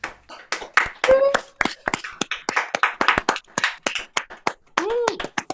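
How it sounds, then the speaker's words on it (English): Livestream viewers unmuting to applaud, giving a patchy, uneven round of hand claps and taps from separate microphones, with a few voices calling out among the claps. "give a nice round of applause to my"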